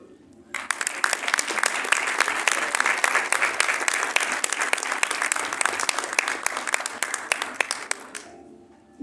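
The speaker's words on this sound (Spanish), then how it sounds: "Recibamos con un fuerte aplauso a Cucho." A seated audience gives sustained applause to welcome a speaker at a book fair panel, with dense, steady clapping that starts abruptly, holds for about eight seconds, then fades.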